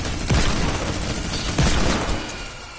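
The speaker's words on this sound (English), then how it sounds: "Smacking him with the hand cannon." Hand cannon gunfire in a video game, two heavy booming shots about a second apart over a dense game soundscape.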